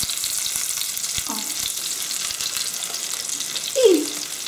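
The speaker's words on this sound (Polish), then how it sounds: "Kotleciki będę podsmażała po 2-3 minutki z każdej strony." Breaded pork cutlets fry in a pan with a steady, close sizzle that fills the whole stretch, broken by a few soft scrapes and a brief louder hiss as one is turned.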